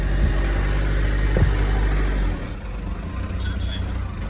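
Car pulling out of the Westfield car park after reversing, its engine a steady near rumble that drops to a quieter idle partway through, with a few bumps and faint background noise.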